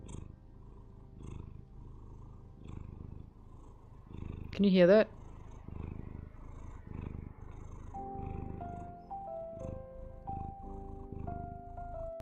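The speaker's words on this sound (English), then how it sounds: "Can you hear her purring if I put her up to the mic?" A female cat held up close to a microphone purrs in a soft, low, steady rumble, with a short chirpy meow partway through and a person talking around it.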